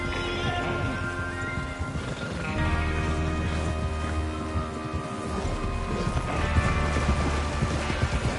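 Galloping horse hooves in the video game Red Dead Redemption 2 pound in a rapid, continuous rhythm over a steady rumbling background with tonal hum, fairly loud and close.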